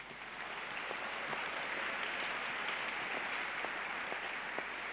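Congregation at a church sermon breaking into sustained applause, a steady, dense wash of clapping from a large crowd that holds evenly from start to finish.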